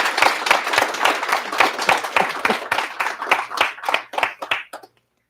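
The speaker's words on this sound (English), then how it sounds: "give a warm round of applause." Warm audience applause at a live culinary entrepreneurs event, crisp individual claps blending into a steady, fairly loud patter that tapers off and stops abruptly near the end.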